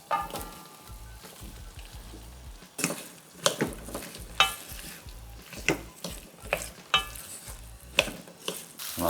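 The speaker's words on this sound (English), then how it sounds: "Give that a stir." Curry potatoes frying in a pan, stirred with a utensil that scrapes and clinks against the pan in irregular strokes over a soft sizzle.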